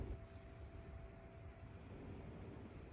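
Crickets chirping on a quiet Sunday outdoors: a faint, steady high-pitched trill under soft background hum, continuous and fairly distant, with no talking.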